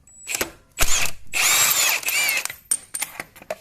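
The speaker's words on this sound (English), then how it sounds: "Step 1, I'm going to remove crankshaft pulley balancer. It takes a 22mm bolt." Power tool whirring loose the 22mm crankshaft pulley balancer bolt on a Ford Ranger 2.3L engine, a close, loud whine of about a second amid clicks, clanks and handling noises.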